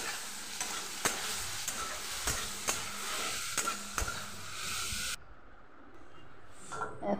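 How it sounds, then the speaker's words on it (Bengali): Paneer pieces frying in a pan with salt and turmeric, a continuous hissing sizzle punctuated by sharp spatula knocks and scrapes, then the frying noise abruptly drops away to near quiet. "পনির টুকরোগুলো ভেজে নিয়েছি এইভাবে একটু ভেজে নেব সাথে আন্দাজ মতো নুন আর হলুদ দিয়ে দিলাম"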